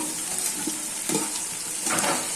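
Tomatoes fry and are stirred in a pan for a chokoli recipe, a soft steady sizzle broken by a few scraping strokes, close but quiet, with no voices.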